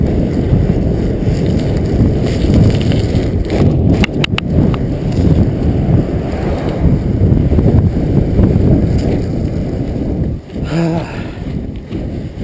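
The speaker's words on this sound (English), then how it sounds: "today I am riding my cyclocross bike" Heavy wind roar buffets the microphone throughout a Yeti ARC-X cyclocross bike ride out toward Loch Lomond Dam, a steady broadband rush with brief rattling knocks around the middle and a short dip near the end.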